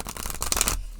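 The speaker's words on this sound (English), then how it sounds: "All right, so shuffling." Tarot cards being shuffled by hand, a dense run of riffling flicks and papery rubs for most of a second before stopping abruptly, close and fairly loud with no voices.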